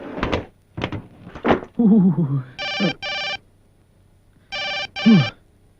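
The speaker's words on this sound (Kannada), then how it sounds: "ಗುರುವೆ ಫೋನ್ ರಿಸೀವ್ ಮಾಡಿ." A telephone rings in a film scene: two double bursts of bright electronic trilling, loud and close, after a few dull thumps and knocks.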